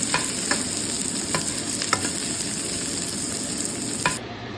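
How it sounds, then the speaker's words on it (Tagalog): Ingredients sauté in a hot pan, browning with a steady close sizzle punctuated by periodic stirring scrapes and taps, until the sound cuts off abruptly near the end. "aluluin lang natin itong ingredients natin. Aluluin lang natin hanggang mag-brown."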